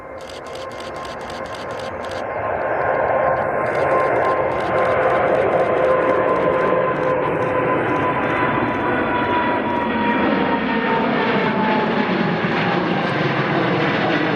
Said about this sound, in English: you're about to watch the beautiful takeoff of the Qatar 777